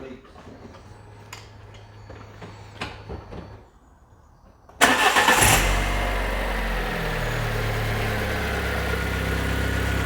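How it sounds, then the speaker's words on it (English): Ford Ka engine cranking and catching after an oil change, then settling into a steady, loud idle that runs on after some quieter rustling and handling noise. "let's start her up. Start it and see if it leaks."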